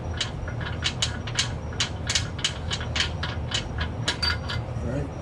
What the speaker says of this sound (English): And then we're just taking out the ear bolts.